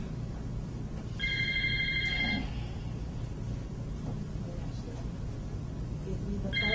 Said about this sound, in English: Give me the phone, Ashley.